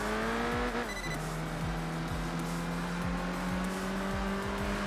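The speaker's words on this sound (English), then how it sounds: "Honda engines in general kind of sound pretty nice" A tuned Honda engine in a subcompact car in the racing game Enthusia Professional Racing drones loud and steady, with a brief rev change near the start and a sustained engine tone beneath repeated gear or tire sweeps.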